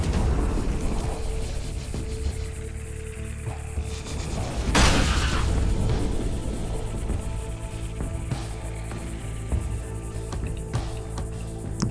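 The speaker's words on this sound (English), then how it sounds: "Double explosion for the win." A double explosion in the tactics video game Massive Chalice: a loud broadband blast bursts out over a dense, steady bed of game noise and music, then trails off into lingering rumble.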